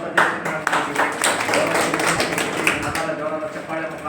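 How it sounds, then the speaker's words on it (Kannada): Applause with claps rings out from the crowd at a Karnataka farmers' association gathering in Kunigal taluk, a dense, steady patter lasting several seconds with talking underneath. "ನಿಮ್ಮೆಲ್ಲರ ಒಂದು ಜೋರದ ಚಪ್ಪಾಳೆ ಮುಖಾಂತರ"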